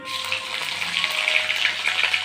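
Cumin seeds and garlic sizzle in hot oil with chili and bay leaf in the pan, a steady, fairly quiet crackling hiss heard up close.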